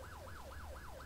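An ambulance siren in a video game wails up and down in a steady repeating sweep, about four cycles in quick succession, over a low traffic rumble with no talking.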